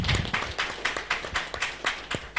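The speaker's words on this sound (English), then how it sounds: "Shall we clap for him?" Audience applause for a speaker at a livestreamed event, a steady patter of many hands clapping with rhythmic bursts, moderately loud and fairly close.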